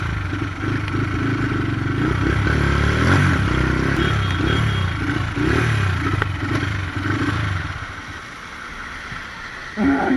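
A Yeng Yeng 150 motorcycle engine revving on a ride in Jamaica, a steady rough drone with rising and falling throttle swells, fairly close, over road noise and clatter that fades near the end.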